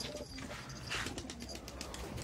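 Pigeons in a home loft coo softly and steadily, faint and fairly distant, with no talk over them.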